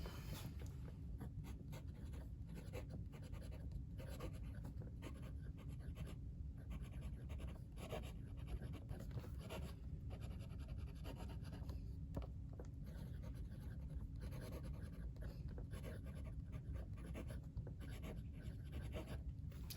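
Nib of a Kaweco Student fountain pen scratches steadily over paper, a close, soft papery rasp with short pauses between strokes, continuing alone for about twenty seconds.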